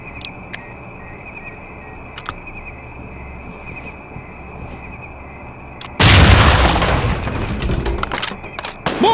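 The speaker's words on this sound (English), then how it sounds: "Placing charge. Prepare for detonation." Breaching charge detonation in the SWAT 4 video game, a sudden loud blast that cuts in after several seconds of quiet ambience with faint clicks and tones, then a long rumbling roar of debris.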